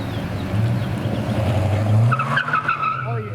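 A loud 1970 Buick Wildcat with an original Quadrajet-fed engine runs steadily close by, its low rumble swelling and easing with a brief higher squeal near the end.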